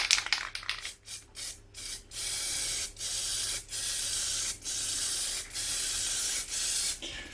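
Spray paint hisses from a can in repeated bursts of about a second each, close and loud, as red primer goes onto a rusty, badly corroded lawnmower deck, with short pauses between passes.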